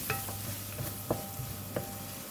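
Brinjal stir-frying in ghee with curry powder, a soft continuous sizzle broken by a few distinct scraping stir strokes of a spatula against the pan.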